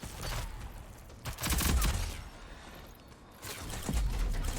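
Submachine gun bursts in a competitive video game match, rapid dense volleys that come in waves, loud and close, with short lulls between bursts and no speech.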